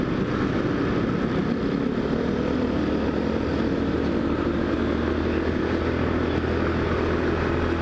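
Steady road rumble while riding a motorcycle through morning traffic, a loud constant engine drone and wind roar with a low hum underneath, continuous and close with no talking.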